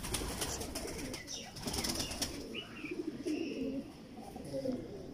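Pigeon wings flap in quick bursts close by while a fancier's bird is handled at home, with soft cooing and people talking over the fluttering.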